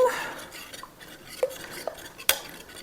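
Baked oatmeal batter with added vanilla stirred in a bowl, giving soft scraping and a few sharp utensil clinks against the dish, fairly close and quiet with no talking.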